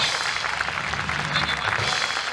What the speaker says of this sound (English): Put your hands together, a nice round of applause for Monte Carlos